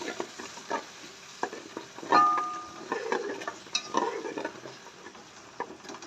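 Ginger, garlic and tomato masala paste fries gently in leftover ghee over a low flame, with a soft, steady sizzle, scraping spoon strokes and light clinks of the pan, all close and fairly quiet.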